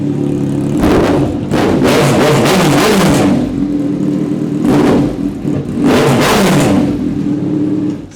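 A Kawasaki 900cc inline-four motorcycle engine revs hard in loud repeated bursts, climbing and falling several times over a steady close-up idle.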